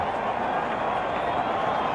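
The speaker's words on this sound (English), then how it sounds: "Their supporters in the crowd are delighted" Dense, steady roar of a large cricket crowd cheering after an Indian wicket against Pakistan at the 1992 World Cup, a continuous wash of voices and noise with no distinct pauses.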